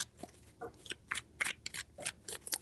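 Tarot cards are shuffled by hand in quick bursts of soft riffling and slapping, close up and fairly quiet, with short pauses between strokes and no talking.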